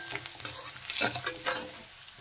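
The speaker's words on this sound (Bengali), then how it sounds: "এখন মশলাটা একটু ভেজে নেব।" Panch phoron and crushed ginger frying in oil: a close, crackling sizzle with scraping stirs from a spatula in the pan, short and fairly soft, with no voices.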